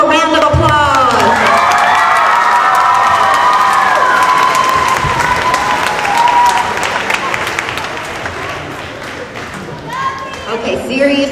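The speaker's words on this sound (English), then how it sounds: "Everybody give them a round of applause" Fourth graders at an elementary school award ceremony get loud applause and cheering: children shout and whoop over dense clapping that stays strong, then gradually thins and fades, with a voice rising again at the end.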